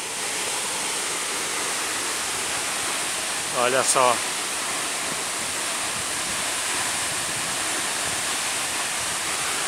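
Cascata da Pedra Branca waterfall in Três Forquilhas, running full after a week of rain, roars as a steady broadband rush throughout, with a brief spoken remark near the middle.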